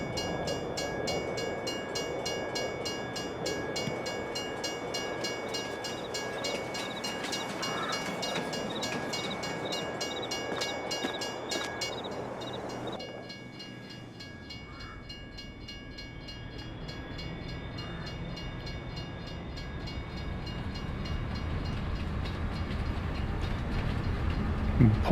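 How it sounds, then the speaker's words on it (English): A train pulls into a station in Farming Simulator 22, rolling with a steady mechanical rumble and wheel clatter that builds, thins out midway, then grows louder again as it arrives near and alone. "Yep, train is coming. It's almost here."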